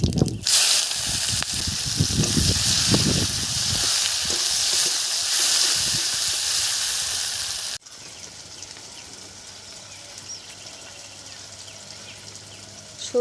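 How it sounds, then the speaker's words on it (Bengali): Chopped onion hits hot oil already holding dried red chili and whole cumin. A loud, dense hiss carries on for several seconds, then drops suddenly to a quieter, steady sizzle. "একটা পেঁয়াজ কুচি দিয়ে দিলাম,"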